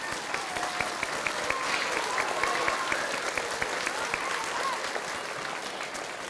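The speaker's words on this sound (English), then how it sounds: "So give yourselves a big round of applause." Children clapping at an Arbor Day gathering at an elementary school, a steady dense patter of many small hands lasting throughout, fairly close and even.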